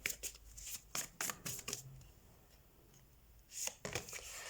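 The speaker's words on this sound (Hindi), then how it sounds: "एक और बार शफल कर लेते हैं।" Tarot cards are shuffled close and quietly, with rapid flicking bursts in short clusters, a softer pause in the middle, then more riffling toward the end.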